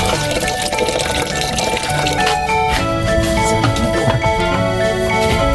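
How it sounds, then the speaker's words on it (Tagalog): Water pours steadily into a cooking pot, a continuous splashing and gurgling fill that stays loud and close, with faint kitchen noise around it. "Lagyan natin tubig para magtuyo."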